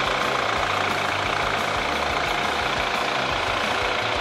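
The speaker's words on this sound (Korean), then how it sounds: "엔진 소리 일정하고 좋습니다" A BMW 528i F10 engine idles with the bay open, a steady, even, low hum with a constant mechanical drone and no change in speed.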